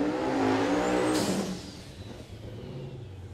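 A Super Street Power Adder drag car at Hot Rod Drag Week launches hard with a loud, rising roar that peaks early, then fades as it speeds away down the strip.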